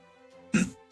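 A live streamer clears his throat and coughs once, a close, heavy rasp right at the mic, followed by a brief start of another.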